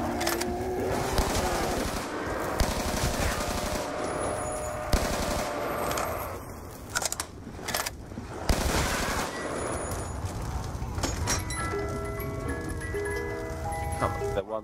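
Rapid bursts of gunfire in a zombie survival video game set at a bus depot, crackling in uneven volleys over game music and ambient noise, with players talking throughout.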